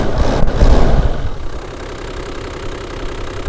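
Van diesel engine running after a fuel injection repair, a steady close rumbling idle with a louder surge at the start, no talk.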